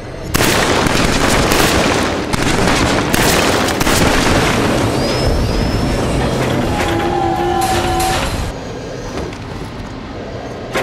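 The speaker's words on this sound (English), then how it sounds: "Let's start with your assault rifle. Destroy the targets in the center of the range." An assault rifle fires at targets on a shooting range in the Killzone 3 video game, a loud, sustained barrage of rapid booming shots, with faint tones from the game sounding briefly in the middle.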